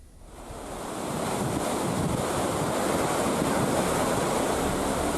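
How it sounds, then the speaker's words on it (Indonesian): Rough ocean surf and strong wind roar steadily on Binaloka beach in South Papua, a dense, continuous wash that swells in over the first second and stays loud, with wind buffeting the microphone. "Nelayan bergelut dengan ganasnya ombak dan angin kencang di pantai Binaloka"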